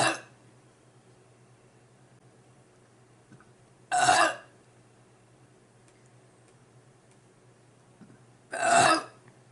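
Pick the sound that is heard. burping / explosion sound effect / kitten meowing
burping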